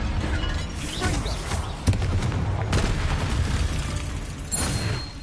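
Blasting Confringo spell bursts from Hogwarts Legacy, a dense, continuous barrage of loud crackling impacts and booms with sharper hits near two and three seconds, no talking over it.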